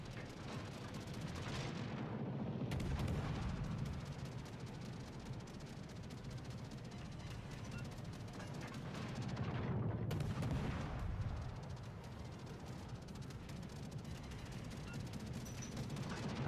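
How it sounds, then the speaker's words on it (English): Naval gunfire in World of Warships Legends: heavy continuous booming and rumbling battle noise with two surging bursts of shots over a dense, loud background, without talk. "More shots out on the Furious."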